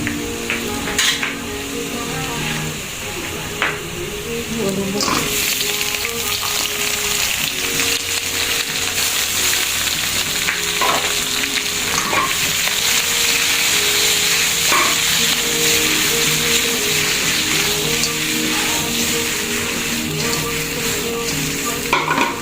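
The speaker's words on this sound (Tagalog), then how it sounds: "salang kagad natin yung ating hipon" Shrimp sizzle and fry in butter in a pan, a loud, steady crackling hiss that carries on without a break for the whole stretch, with faint scrapes of stirring now and then.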